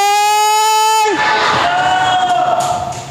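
A church congregation breaks into loud, sustained clapping and cheering, the dense crowd noise starting abruptly after a brief sustained tone and carrying on to the end.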